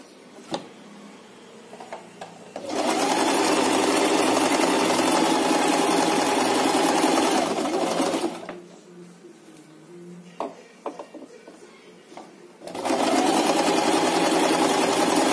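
Sewing machine stitching fabric for a small storage basket, running in two steady, even bursts of several seconds each with a short quiet pause between them, close and fairly loud.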